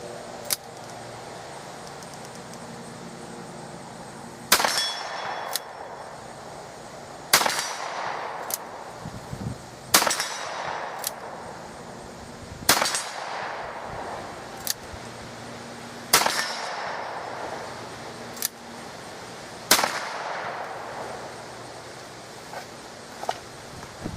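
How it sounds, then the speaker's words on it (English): A Ruger .44 Magnum revolver fires six widely spaced, sharp, loud shots outdoors. Each report is followed by a faint metallic ring as the bullet strikes steel targets downrange, with quiet rustling between shots. "Now the 44 Magnum is not quiet."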